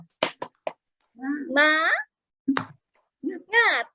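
A teacher leads a primary class in the tepuk semangat clapping chant: a few sharp, quick claps in an irregular pattern, each burst followed by a sung chanted word, near and clear in a quiet classroom.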